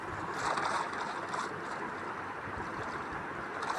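A Minecraft boat drifting downstream on its own, with a continuous rushing, splashing wash of water and a windy hiss that stays steady and fairly loud throughout, without pauses.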